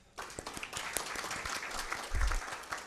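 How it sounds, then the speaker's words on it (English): An audience at an Interior Design Association of Kenya conference panel applauds, a dense mix of many claps with some sharper nearby hits, steady and moderately loud for about three seconds. "round of applause, please."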